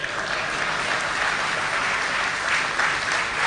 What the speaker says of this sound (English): if you want to clap, clap.